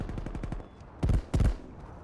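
Rapid automatic gunfire in a competitive online shooter match: a quick rhythmic burst of shots, then two louder, heavier blasts close together, with no talking.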